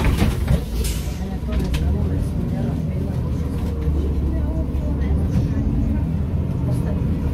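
Interior of a public city bus riding through Belgrade, Serbia: a continuous low engine rumble and road noise droning steadily throughout.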